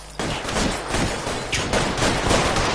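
Rapid video-game gunfire in L.A. Noire Remastered, a dense fusillade of loud, close shots in quick bursts filling the whole stretch, with no talk over it.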